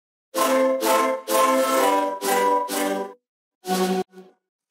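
Euphoric synth processed through the Portal plugin in a remix, heard as several bright, swelling chord bursts separated by short gaps, ending with a brief stutter, loud and alone.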